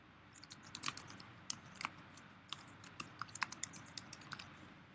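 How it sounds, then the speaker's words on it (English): Someone types a short description on a computer keyboard, a close run of light, irregular key clicks with a few sharper taps over a quiet room, with no talking. "you can just type it in here."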